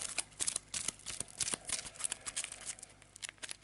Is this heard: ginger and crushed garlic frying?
no